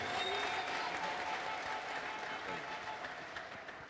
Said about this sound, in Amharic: እስቲ ለጌታ ክብር በደንብ አጨብጭቡለት።